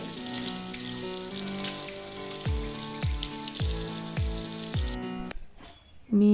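Tap water runs steadily into a sink during washing, a continuous close splashing rush with a few clatters and a louder burst at the end.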